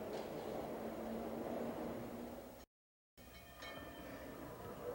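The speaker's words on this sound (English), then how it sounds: "Some people go by underground." An underground subway train rumbling along steadily and fairly loud, with a brief gap of silence midway and a faint high squeal or hiss after it.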